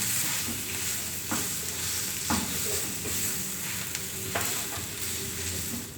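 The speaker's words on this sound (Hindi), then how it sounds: "इन सारी चीज़ों को अच्छी तरह मिक्स कर लेंगे" Mashed potato and coriander filling being stirred in a hot pan on the stove with a faint steady sizzle, with a few soft spoon scrapes against the pan.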